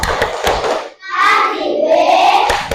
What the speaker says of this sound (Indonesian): Oke, kita kasih tepuk wow.